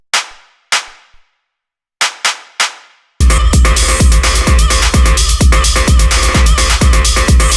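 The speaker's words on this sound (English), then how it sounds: "Then we have this little clap which sounds like this." A dry electronic clap hits a few times alone with short decays, then a loud full raw rave techno beat kicks in with the clap repeating steadily inside the dense mix.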